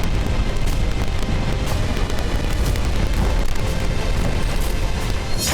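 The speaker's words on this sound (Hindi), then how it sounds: "एक के बाद एक कई धमाकों की वजह से रूसी रिफाइनरी पूरी तरह से ठप हो गई" Explosions at a Russian oil refinery hit by missile strikes, heard as a loud, continuous booming roar of broadband rumble that fills the whole stretch without a break.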